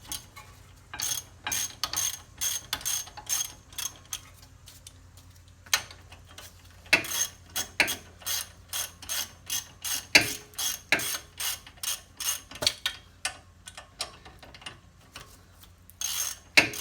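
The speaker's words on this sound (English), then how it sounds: "I'm going to use my ratchet to just get them going." A hand ratchet clicks in quick, uneven bursts of sharp pawl ticks, close and clear, as caliper bracket bolts are run in on a 2007 Honda Element SC brake job.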